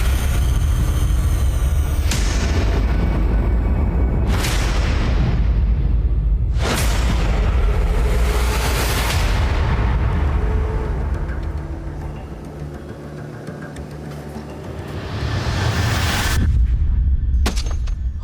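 Heavy gunfire and booming blasts strike reporters in a Taliban-held area of Afghanistan: several loud, sharp reports spaced seconds apart, each with a rolling echo, over constant rumbling background noise.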